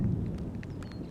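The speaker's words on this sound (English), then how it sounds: "It's already raining again." Rain falls steadily outdoors in a wild valley, a dense, even hiss of drops with a low rumble underneath and no voices.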